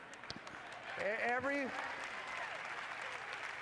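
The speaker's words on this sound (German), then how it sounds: "Das hört sich nach weiblichem Applaus an" Applause from the women in an audience, a steady patter of clapping that swells after the first second and holds, with speech-like tonal voices rising over it midway.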